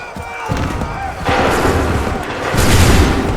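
Musket volleys crack out in Assassin's Creed III, broad noisy bursts arriving in waves over a rumbling battlefield bed, loud and close, with shouted orders in the background.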